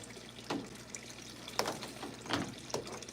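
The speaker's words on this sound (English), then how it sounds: "I am going to water in this beautiful passion fruit." A garden hose sprays water onto a passion fruit plant, a faint steady splashing and patter outdoors, with a few louder gushes and drips, no talk.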